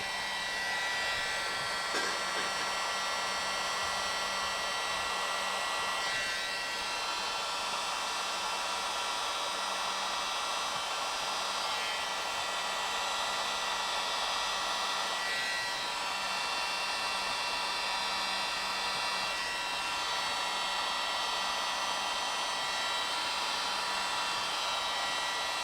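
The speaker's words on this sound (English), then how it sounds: "grab your little mini blower, stick a straw in the end of it, turn it on" A small handheld mini blower with a drinking straw fitted into its nozzle, used to push bubbles through fluid art paint, runs with a steady, high, whining airflow hum throughout with no pauses.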